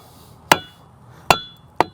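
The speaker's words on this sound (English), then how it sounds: "definitely having a heavier hammer helps" Three sharp, heavy hammer strikes on a fence post ring out close by, spaced unevenly, each with a brief metallic ring.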